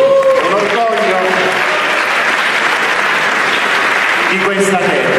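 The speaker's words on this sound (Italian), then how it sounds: "vi chiederei un applauso bis" An audience at an award ceremony applauds in a dense, continuous wash of clapping, with brief sung or spoken tones at the start and end.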